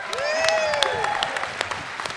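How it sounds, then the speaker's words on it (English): Scattered clapping from a small panel audience at Power Morphicon 2018, brief and moderately loud, with whistle-like tones and a murmur of voices underneath. "Can we get a clap on that?"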